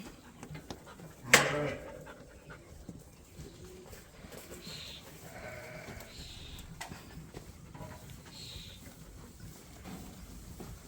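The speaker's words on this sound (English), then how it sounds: "Now we're going to run these rams back and we're going to try get the ewes over here." Rams and ewes bleat a few times, faint and somewhat distant, in a pen on a shearing day. A sharp knock sounds early on over quiet outdoor background.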